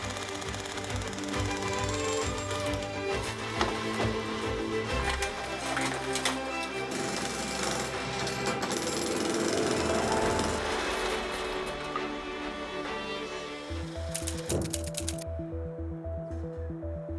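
Demolition work inside a 35-year-old apartment being remodeled, with dense, continuous banging, hammering and scraping of debris throughout, and a rapid mechanical rattling near the end.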